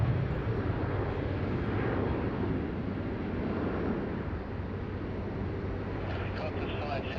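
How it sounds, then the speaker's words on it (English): A Qantas airliner, flight QF 926 to Cairns, taking off from runway 16 right at Sydney Airport: a sustained, broad, distant jet roar with wind buffeting the microphone, and a voice present. "Great departure from QF 926 now"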